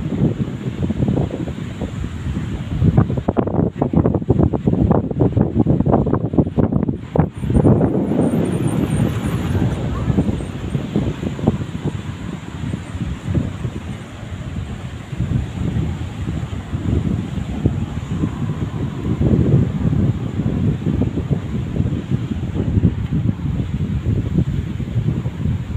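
Strong wind on a beach in Matrouh, Egypt buffets the microphone constantly with loud low rumbling gusts, and a voice talks faintly under the roar near the start.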